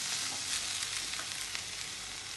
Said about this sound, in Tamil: இப்போ அந்த அரிஞ்சு வச்சுருக்கீங்களா பெரிய வெங்காயம் போட்டுக்கலாம்.